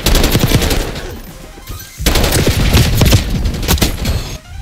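Dense, loud bursts of automatic gunfire and rapid shots from a Black Ops 6 beta multiplayer match crackle almost nonstop, with a short lull midway before the firing picks up again.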